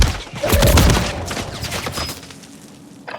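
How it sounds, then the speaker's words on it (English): Gunfire in Call of Duty Warzone on Rebirth Island, a loud burst of rapid shots and booms in the first second that fades into scattered echoing fire, with a brief electronic tone, no talking. "Taking effective fire!"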